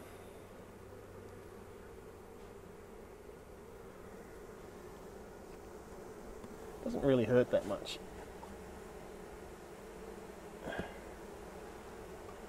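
Honey bees buzz in a steady, soft hum around a backyard beehive in December, with a voice speaking briefly over the drone partway through.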